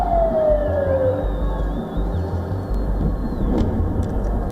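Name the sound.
air raid sirens wailing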